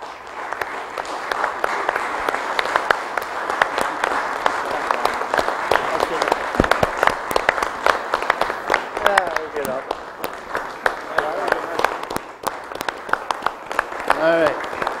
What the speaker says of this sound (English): I just want everybody to give these gentlemen a round of applause